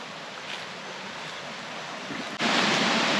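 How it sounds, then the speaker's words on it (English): Rushing water of a river in the Tanzanian bush, a steady broadband wash that swells suddenly louder near the end, with no voices. "we're following the sound of water"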